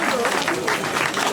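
A crowd applauds a Norwegian cyclist at the podium of a stage of a road cycling race in the Var, a short burst of dense, steady clapping.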